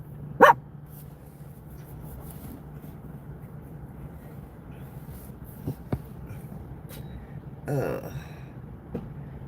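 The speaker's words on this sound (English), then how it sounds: "she barks at peoples" A dog barks a few short, sharp times at a distance over a low, steady vehicle rumble, with a murmur of background voices and sounds.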